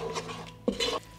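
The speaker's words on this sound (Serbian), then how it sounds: "Promešat ću par sekundi na nižoj temperaturi" A spoon stirring ground red paprika in a pot over low heat, a couple of quick close scraping and clinking strokes against the metal.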